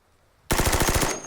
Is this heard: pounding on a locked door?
no